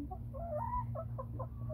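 Backyard chickens in a coop give soft, low clucks and short murmuring calls, close by, over a constant low hum.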